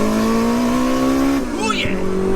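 A big-turbo Toyota MR2 sleeper pulls hard in second gear, engine note climbing loudly before a quick shift and renewed rise, with turbo whoosh and flutter heard from inside the car.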